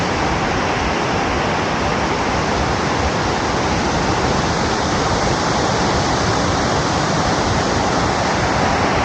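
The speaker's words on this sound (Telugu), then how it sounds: "సో అక్కడ పడుతున్న వాటర్ ఏదైతే కిందకు వస్తుంటే చాలా బాగుంది" Water pours down a fall at Badrinath, a steady, dense rushing roar that stays loud and unbroken throughout, with no voices.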